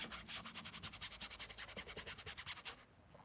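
A car headliner scrubbed in small circles, giving a quick rhythmic rubbing, scratching sound of even strokes, close but faint, stopping near the end.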